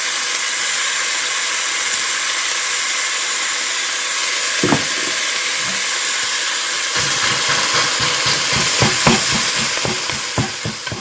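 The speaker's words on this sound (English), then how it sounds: "the hamburger is cooked. I kind of set it aside because it's still doing its little sizzling thing." Ground beef (hamburger) sizzles steadily in a hot pan, a constant crackling hiss, with a few scraping stirs and sharp pops toward the end.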